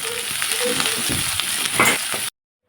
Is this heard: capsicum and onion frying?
yes